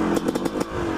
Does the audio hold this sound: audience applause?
no